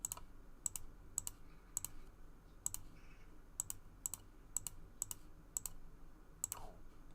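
Calculator keys are pressed one at a time while numbers are entered for a binomial expansion, a series of faint, sharp plastic clicks at an irregular pace.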